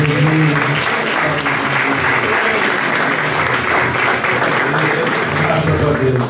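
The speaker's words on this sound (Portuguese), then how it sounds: "Dá uma linda salva de palmas para Jesus." Applause from a Pentecostal evangelical church congregation in Mogi Guaçu, São Paulo, a dense sustained clapping wash filling the room throughout, with voices mixed in underneath.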